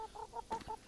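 Chickens cluck in a medieval village in the video game Kingdom Come: Deliverance, a few short, close, moderately loud clucks in quick succession with no talking.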